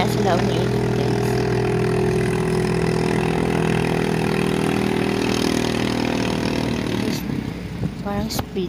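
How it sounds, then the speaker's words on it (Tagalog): A speedboat engine at sea drones steadily and loudly for several seconds, then the pitch shifts and the sound becomes rougher near the end. "Parang speedboat."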